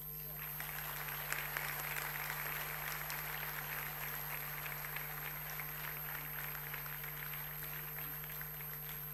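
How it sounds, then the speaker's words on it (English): An audience claps for children at a school annual day in Noida, a steady, dense patter of applause from a large crowd heard faintly and at a distance over a constant electrical hum. "Now we clap for your children."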